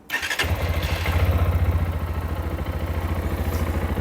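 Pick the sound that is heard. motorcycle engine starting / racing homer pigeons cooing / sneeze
motorcycle engine starting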